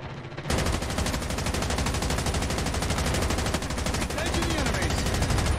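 Rapid automatic gunfire in the mobile shooter game Call of Duty Mobile, a loud, dense, continuous stream of shots starting abruptly and running nearly unbroken to the end.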